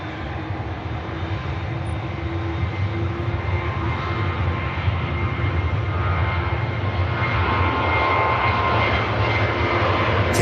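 A Ryanair jet bound for Tirana taxis down runway 05 left at Manchester Airport for departure, its engines giving a loud, steady whine and roar close by that holds throughout.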